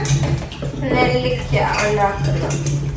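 Metal pot clanks and scrapes repeatedly at close range while gooseberries are prepared for salt pickling, with rattling cookware and a steady low hum underneath.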